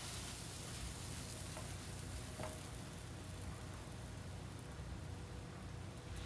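A boudin quesadilla sizzles in a hot pan after being flipped, a steady, even hiss and crackle with no talking, fairly quiet and constant throughout.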